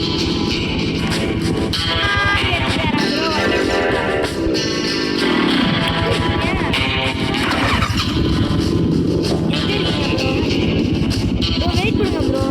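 An ATV engine in the Dangerous ATV Driving video game revs steadily and loudly for the whole stretch, its pitch rising and falling continuously with acceleration.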